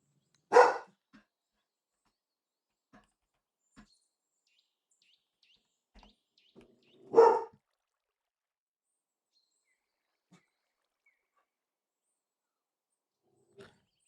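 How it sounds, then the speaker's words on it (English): A pet dog barking indoors during a relaxed evening livestream, two loud single barks several seconds apart with near silence and a few faint taps between them. "My dog is being crazy."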